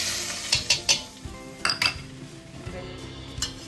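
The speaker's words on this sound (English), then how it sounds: "Now I will add this tadka to this sambar." Hot tadka of curry leaves fried until brown, poured into a pot of sambar with a few sharp clinks and spluttering sizzles, then a softer, continuing sizzle and clatter.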